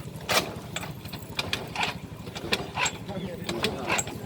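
A motorcycle engine idles with a steady low buzzing throb at a murder-case reconstruction in Makassar, continuous beneath people talking nearby.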